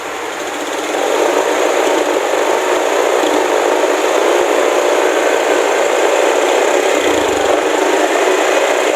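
A Honda Vario scooter engine with a hesitation fault runs at a steady, loud, continuous drone that stays even throughout, heard close up with no talking.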